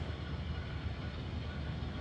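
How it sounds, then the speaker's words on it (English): Model train rumbling along a layout, a steady low continuous rolling drone, close and quiet, with no voices. "We'll park the train in the yard."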